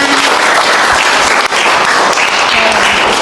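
A lecture-room audience bursts into loud, steady applause that lasts throughout, dense and close.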